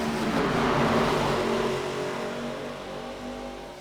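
Several race cars at Kansas in iRacing roar away at the green flag, engines revving hard as a loud, dense, continuous pack that eases slightly toward the end.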